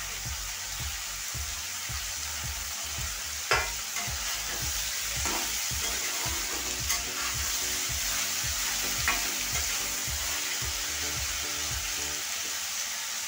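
Peas and green chillies fry in hot oil for chowmein, a steady close sizzle under regular rhythmic scraping of a spatula stirring the pan, with a few louder clinks.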